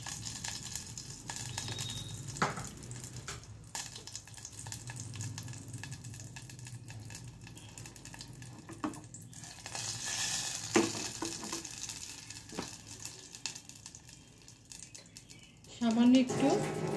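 Sugar heats in a pan over medium heat for milk pudding, giving a faint, intermittent sizzle and crackle with a few clicks of utensils, while a person speaks.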